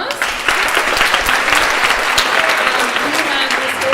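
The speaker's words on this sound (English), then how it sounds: "So give him a round of applause" A school choir concert audience gives a loud, dense round of applause for a choir member being honoured for four years of service, sustained clapping filling the hall.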